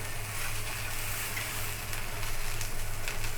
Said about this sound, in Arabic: هنبدا كده نقلب البرجر على الوش التاني